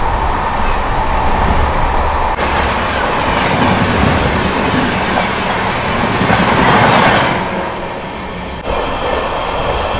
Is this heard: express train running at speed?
yes